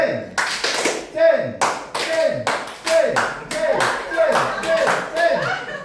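An audience at a public speaking event in a mosque claps in time during a clapping exercise. The claps fall in a steady, repeated rhythm, sharp and fairly close, with a voice speaking among them.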